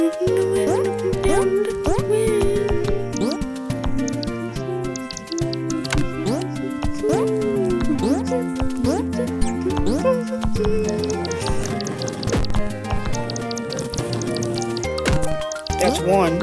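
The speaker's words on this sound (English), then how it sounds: "That dripping bad stuff." Dripping, plopping liquid sounds recur in the video game Cat Bird World, layered under busy game music and chatter throughout.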